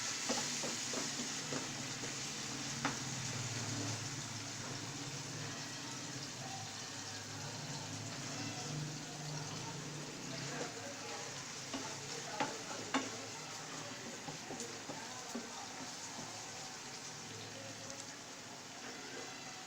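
Onions with ginger garlic paste sizzle and crackle steadily in a pan for dhaba-style chicken karahi, with occasional scraping stirs over a constant close frying hiss.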